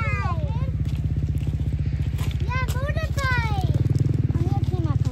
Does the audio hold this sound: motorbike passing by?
yes